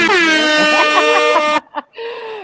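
A loud, sustained air horn blast held for over a second, cut off sharply and followed by a couple of shorter, quieter horn bursts.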